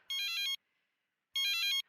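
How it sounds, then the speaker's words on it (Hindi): A mobile phone ringtone plays two short electronic bursts separated by a pause of near silence, clear and close, in a comedy TV household scene, with no talking over it. "अरे भैया, किसका फोन आ गया?"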